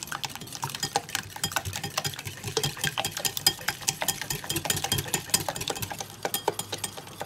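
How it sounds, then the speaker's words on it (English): Chaffle batter with baking powder is stirred briskly in a bowl, the utensil tapping and scraping the sides in a quick, steady rhythm, close and alone. "you're just going to give this a good mix until everything is well combined"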